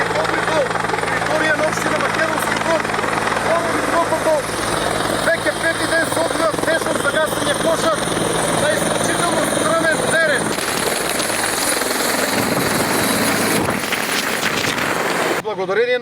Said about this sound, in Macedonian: налетот на хеликоптерот, од фрлањето вода горе во планината до наредното фрлање трае 3 до 4 минути